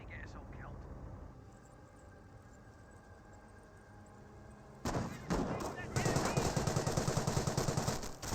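Company of Heroes gunfire with bursts of machine gun and rifle fire breaking out mid-clip, loud and dense over soft battlefield ambience, with voices in the mix.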